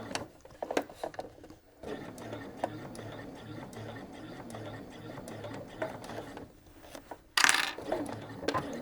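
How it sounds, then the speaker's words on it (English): A sewing machine stitches a short section of a curved convex zipper through exterior fabric and lining, running in bursts of mechanical whirring with brief pauses and a sharp clunk near the end. "So I'm just going to sew a section about 2 inches, an inch on the exterior and an inch on the lining."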